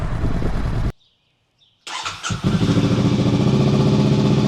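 A 2024 Honda CB500F motorcycle fitted with a Leo Vince slip-on exhaust: after a short silence the starter whirs, then the engine catches and settles into a loud, close, throbbing idle.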